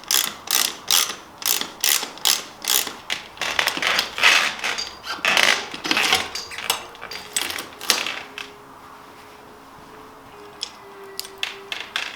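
A ratchet wrench tightens bolts near the shifter of a Polygon Siskiu T7 mountain bike, giving quick rhythmic bursts of loud clicking for several seconds before it fades to a quiet background hum.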